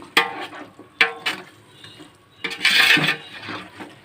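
Soft-cooked mutton is mixed in a pot for Arabian-style dum biryani, with a few sharp spoon clanks against the metal, then a longer scraping, stirring stretch that fades, with no speech.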